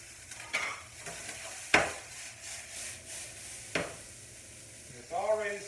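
Onions hit hot, smoking olive oil in a pan with a soft sizzle, punctuated by a few sharp clatters and stirring scrapes, faint and close.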